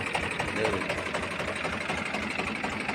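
Steady, rumbling 2015 Powertrac 439 tractor engine idling nearby with a rhythmic mechanical chug throughout, no pauses.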